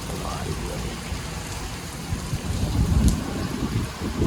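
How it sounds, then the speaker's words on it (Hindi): Heavy rain pours outside in Makkah, a steady hiss of drops on surfaces that swells louder toward the end, with low rumbles mixed in and no voices. "ज़बरदस्त बारिश हो रही है"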